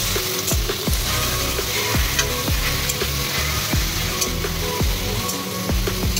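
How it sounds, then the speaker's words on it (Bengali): Bottle gourd fries in ghee while a spatula scrapes and stirs the pan, a steady sizzle broken by a regular run of sharp scraping strokes, close and fairly loud, with no talking. "লাউটা দিয়ে দিয়েছি, এখন একটু ঘিয়ের সঙ্গে নাড়াচাড়া করে নেব।"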